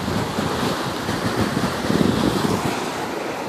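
Surf rolls continuously onto Naples Beach at night, a steady washing hiss with a slightly louder wave surge midway, close, with light wind and no talking.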